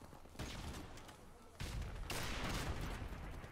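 Gunfire in Call of Duty Modern Warfare Remastered multiplayer, a few loud shots and rattling bursts crowding together in a short, dense stretch of battle noise.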